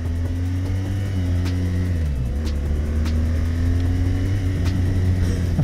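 A BMW R1200 GS Adventure motorcycle engine hums close by, its pitch dipping and then climbing steadily as the throttle opens, with a few faint clicks and knocks over the continuous drone.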